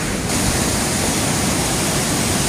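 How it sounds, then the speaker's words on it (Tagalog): Flood water rushing through the Armenia dam in Tarlac, a loud, constant broadband roar of surging current that fills the whole clip, close and steady with no voices. "pataas na po pataas ang daloy ng tubig."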